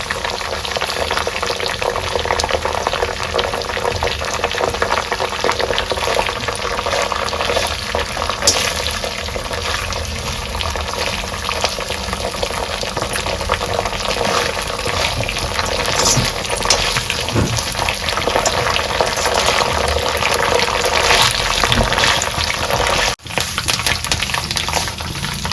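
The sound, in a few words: curry leaves frying in oil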